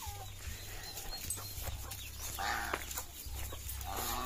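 Chickens cluck and a rooster calls on a farm lot with geese and turkeys, steady close clucking over a constant low hum, with a dog also audible.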